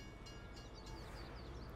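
Train rolling along the tracks in Farming Simulator 2019, a steady low rumble with faint high squeals and clatter throughout, fairly distant and alone without talk.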